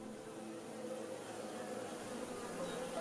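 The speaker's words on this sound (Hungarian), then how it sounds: "Az első felderítő méhek visszatértek a kaptárba." Honeybees hum steadily at the hive of a migratory apiary close to a sunflower field, a continuous soft buzz of many insects with no pauses.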